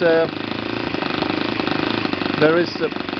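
Enya 53 4C model glow engine running at a steady idle, with a continuous buzzing drone that holds throughout, and a voice speaking briefly near the start and again later over the engine.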